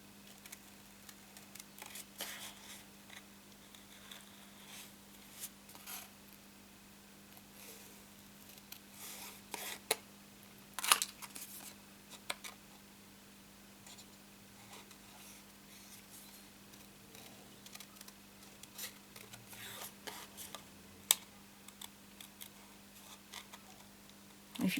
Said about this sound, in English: cutting here, and I just go along on the lines